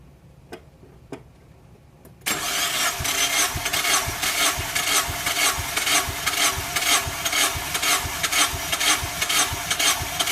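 A 2001 Mazda Miata engine cranks on the starter during a wet compression test on cylinder 2. A couple of faint clicks come first, then a sudden, steady, rhythmic chugging of evenly spaced pulses.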